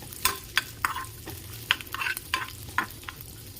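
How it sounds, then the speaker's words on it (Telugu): Cashews fry in ghee over a low flame, a soft steady sizzle broken by repeated close scraping stirs of a spoon in the pan, with no talking. "మంచిగా దోరగా ముక్కుపడి రంగులో వచ్చే వరకు ఫ్రై చేసుకుందాం."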